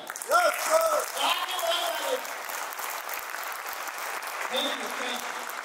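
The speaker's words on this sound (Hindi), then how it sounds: "एक बार जोरदार ताली।" Audience applause at a third anniversary company event, a dense clatter of many hands that swells early and carries on steadily throughout, with a voice speaking over the opening moments.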